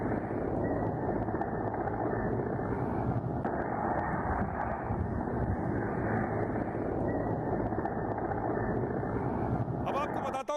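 Helicopters sent by Pakistan in news footage, a steady, continuous rotor and engine drone that fills the whole stretch at an even, moderately loud level with no pauses.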